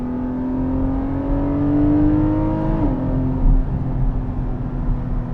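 A 2021 Porsche 718 Cayman GTS 4.0 flat-six with a dual-clutch automatic accelerating hard, its engine note climbing steadily before a quick gearshift drop and renewed pull, close and loud with no talk.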